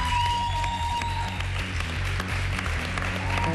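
Studio audience at a Macedonian Idol live concert show applauding steadily, a loud continuous wash of clapping over a low hum.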